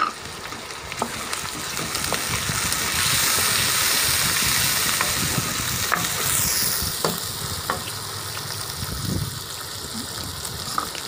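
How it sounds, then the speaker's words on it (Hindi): Tomatoes fry in a masala base for tinda gravy with a loud, continuous sizzle and occasional stirring scrapes close up, building in the middle and easing slightly toward the end, with no talking. "इसको अब टमाटर मिक्स होने तक इसको भून लेना है"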